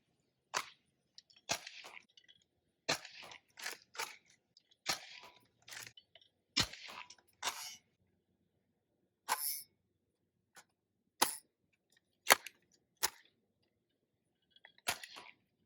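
A Nerf Rival Knockout blaster fires orange Adventure Force foam balls in sharp, isolated pops, about a dozen irregularly spaced shots with quiet gaps between them.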